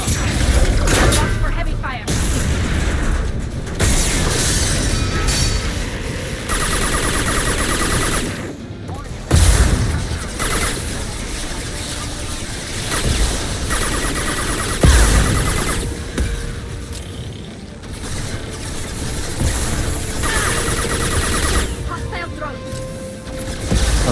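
Heavy gunfire rages in a Mass Effect 2 battle on Insanity difficulty, with loud, continuous bursts of automatic weapons and booming impacts, briefly dipping before resuming, while voices speak intermittently over the combat.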